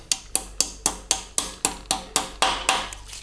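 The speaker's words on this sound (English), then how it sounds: "Let's give them a little light tap into place." Light hammer taps seating dowel pins into an LS3 V8 engine block, about eleven evenly spaced sharp metallic knocks in steady rhythm, close and clear.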